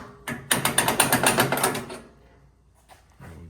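Metal socket holders made on a CNC press brake are tested in a rapid run of about a dozen sharp mechanical clicks over a second and a half, close and loud, then a few fainter clicks after a pause.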